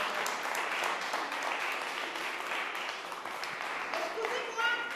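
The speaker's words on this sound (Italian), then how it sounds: "Facciamo un applauso." An audience at an Italian music festival applauds in a dense, steady wash of clapping that lasts the whole stretch, with voices faintly audible underneath.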